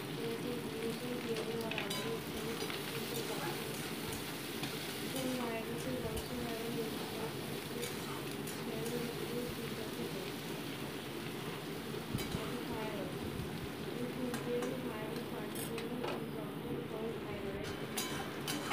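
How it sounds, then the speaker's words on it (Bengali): Chopped onion and slit green chili sizzle in hot oil in a pan, a steady crackling hiss that runs on evenly throughout, faint and close, with occasional spattering pops and no talk. "এবার আমি কেটে রাখা পেঁয়াজ কুচি আর লঙ্কা চিড়ে রাখাটাকে আমি তেলের উপর দিয়ে দিলাম।"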